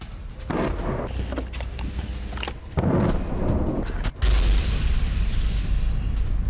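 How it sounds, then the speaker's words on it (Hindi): Low, heavy rumbling builds into a sudden deep explosive boom as a landmine destroys an IDF tank, followed by a sustained roaring blast of noise. "बारूदी सुरंग धमाके से उड़ा आईडीएफ टैंक"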